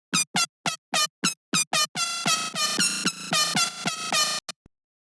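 Synthesizer with filter and delay and harmonic saturation, playing a run of short, bright, buzzy stabs that swell into a dense, sustained horn-like chord, loud and up close, then cut off.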